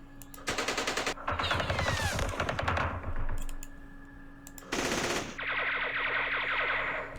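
Gunfire from a Vietnam War strategy video game set at the 1968 Battle of Ba Ria, with loud bursts of rapid automatic fire and rattling volleys in several bouts, separated by brief pauses.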